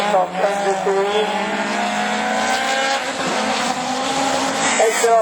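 Peugeot 205 GTI rallycross car racing in a French championship Division 4 event, engine droning loud and steady throughout with a rising whine and tyre noise, other racing engines mixed in.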